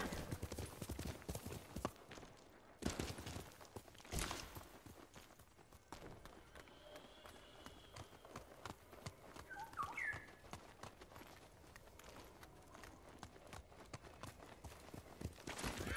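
Horse hooves clip-clopping in the video game Ghost of Tsushima, a quick rhythmic series of close hoofbeats running throughout, fairly quiet, with a brief whinny partway through.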